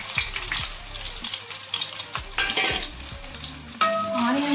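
Onions and green chillies frying in a pan while cooking chicken fry, a close, continuous sizzle with repeated stirring scrapes and a clink of utensils near the end, no talking.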